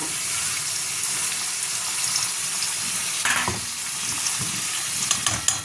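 Ginger garlic paste frying in a pan for a Bengali desi chicken curry, a steady close sizzle with occasional scraping stir strokes and small clinks toward the end.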